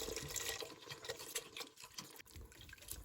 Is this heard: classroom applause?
no